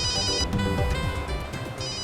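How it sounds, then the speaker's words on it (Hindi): A phone rings inside a car, a steady electronic ringtone repeating its tone pattern close by for a couple of seconds with no talk over it. "ओहो, देखो किसका फोन आया है।"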